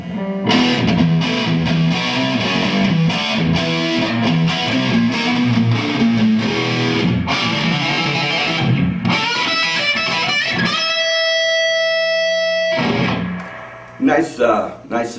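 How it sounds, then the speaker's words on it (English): Heavily distorted electric guitar through an Otis distortion pedal with clipping diodes chugs through chords, then a long ringing note sustains and fades before a few final strums. "you can turn it to the distortion."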